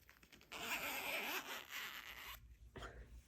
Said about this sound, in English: you want to get your zipper back through that little hole